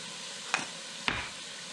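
Garlic and salt being stirred into sautéed celery and vegetables in a pan for Bulgarian bob chorba bean soup, with two short scraping stirs over a soft, steady sizzle and no talking.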